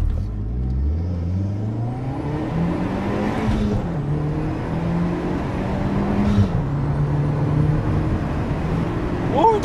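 An Audi TT Quattro with 225 hp pulls away from a standing start from inside the car, its engine note climbing steadily through several gear changes, loud and close.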